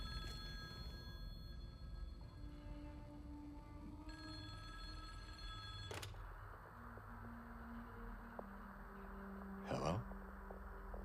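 Old telephone ringing inside a phone booth in Silent Hill 2, a steady repeated bell over a low droning game ambience, with a couple of sharp thuds along the way.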